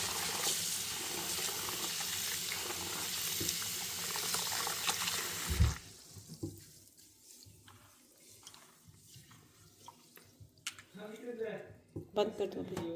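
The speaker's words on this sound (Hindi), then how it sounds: "इनको वॉश करेंगे क्योंकि कभी कभी इनमें मिट्टी होती है" Tap water runs steadily into a sink as kitchen ingredients are rinsed to remove soil, a broad hiss for the first half that stops abruptly, followed by quieter handling sounds and a voice talking.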